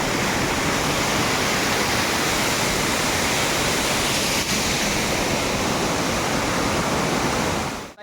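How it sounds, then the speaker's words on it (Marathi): A waterfall rushes over mountain rocks in the Konkan, a loud, dense, unbroken roar of falling water that holds steady throughout and drops away sharply at the very end. "इकडं बघा कसं डोंगरातनं दगडातनं पाणी येत आहे"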